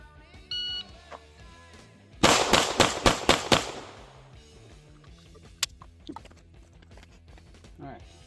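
Pistol shots at an outdoor range with a DPM Systems recoil spring fitted: a rapid string of about six loud, sharp cracks in quick succession, followed by a lone fainter pop, with people talking before and after.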